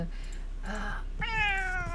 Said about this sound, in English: мой кот громкий, he's loud.